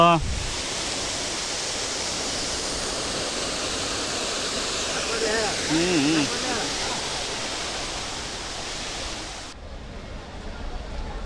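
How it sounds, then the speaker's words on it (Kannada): Steady, dense rushing water roars throughout, like a nearby waterfall, with a brief voice in the middle before the sound drops off near the end. "ಸೊ ಜಲಪಾತವನ್ನು ಈ ಒಂದು ಸ್ಥಳದಲ್ಲಿ ನೀವೇನು ನೋಡ್ತಾ ಇದ್ದೀರಾ"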